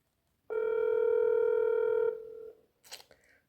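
A steady telephone dial tone hums for about two seconds, drops to a lower tone, then cuts off and is followed by a brief clicking noise.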